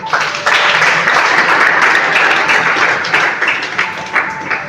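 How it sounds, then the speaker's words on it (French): A church congregation bursts into sustained, loud applause that holds steady for several seconds, dense clapping filling the room with a few brief louder swells. "Est-ce qu'on peut acclamer pour le Seigneur?"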